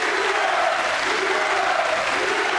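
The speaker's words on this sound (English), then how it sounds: "this crowd on their feet, a standing ovation for the first game of this evening's session" A bowling alley crowd at the Weber Cup gives a standing ovation, sustained loud applause and cheering filling the hall without pause.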